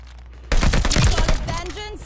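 Rapid, dense gunfire from a hip-fired weapon in Call of Duty: Vanguard crackles in a loud burst that starts suddenly and runs for over a second before tapering into quieter in-game sounds.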